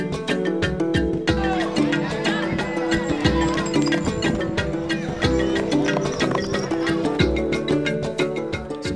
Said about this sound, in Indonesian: salah satu dari kami melihat-lihat pacuan kuda dengan joki anak-anak yang masih ada di Sumbawa